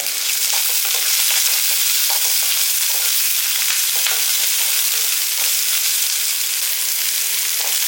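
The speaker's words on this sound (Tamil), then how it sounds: "எல்லாமே சேர்த்து நல்லா வதக்குங்க" Steady, continuous sizzling of onions sautéing in a pan, with faint scraping and stirring clicks throughout, close and fairly loud.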